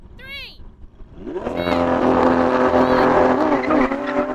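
Two Lamborghini Aventador V12 engines, an Ultimae and an SVJ, rev hard and then roar together in a loud sustained drag race, with a short tire squeal at the start and excited voices over the noise.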